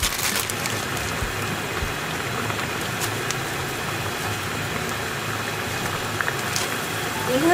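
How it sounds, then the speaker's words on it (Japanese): A pot of water at a rolling boil for ramen noodles, a continuous bubbling hiss with occasional small clinks, fairly close and steady. "こっちがね、沸騰してきたんですよ"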